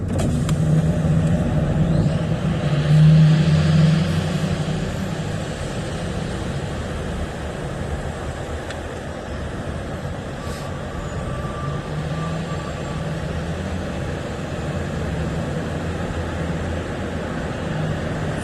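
Austin street traffic passes outside a car window as a broad, continuous rumble, with a louder vehicle sweeping by early on and a steady wash of road noise after.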